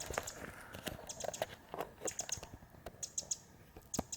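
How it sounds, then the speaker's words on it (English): A bird calls in the woods at Muir Woods on a quiet morning, giving short repeated high chirps in brief clusters over faint rustling and soft ambient taps. "You hear a bird."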